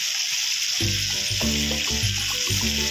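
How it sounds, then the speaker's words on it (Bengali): Pieces of mackerel frying in hot oil sizzle with a steady, dense hiss, close up, with irregular spitting and pops throughout. "আর এই 2 পিস ভাজা হলেই হয়ে যায়।"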